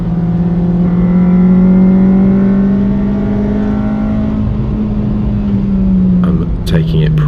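Honda Civic Type R EP3 engine on a race track, a loud sustained four-cylinder drone holding steady revs before dropping off toward a corner, with a brief clatter at the end.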